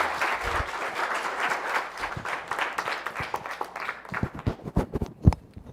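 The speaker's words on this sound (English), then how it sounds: "let's give Travis one more round of applause" After a thesis presentation, an audience applauds steadily and then tapers off into a few scattered, individual claps.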